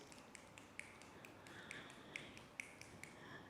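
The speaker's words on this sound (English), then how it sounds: "I invite you to snap your fingers" A scattered congregation snaps fingers during a Unitarian Universalist Sunday service, sharp dry clicks popping irregularly from several people at moderate distance in a hushed room.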